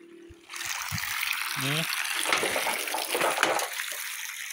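Strong steady gush of water pouring from a solar-powered pump drawing from a well, the pump run off a tricycle's electrical supply; a loud continuous rush starts abruptly after a quiet moment, with a brief voice early on.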